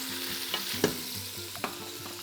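Fish browning in a pot as the base for a fish broth, with a soft steady sizzle and a few sharp scrapes of a utensil stirring against the pot.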